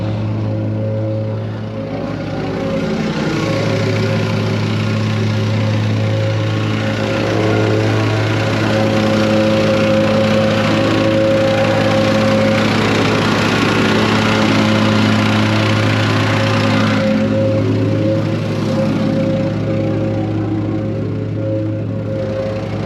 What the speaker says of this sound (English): We got our rock in here, we're just compacting it